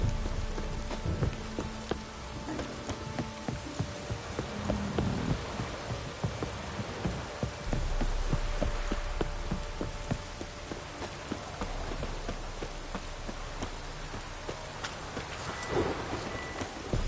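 A heavy rain downpour hisses steadily and fairly quietly, mixed with scattered knocks and clopping impacts throughout.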